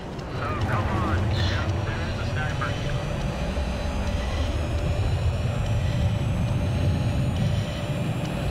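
Helicopter in the video game Battlefield 3, a loud steady rotor drone with low rumble holding throughout, close and constant, with a player talking over it in places.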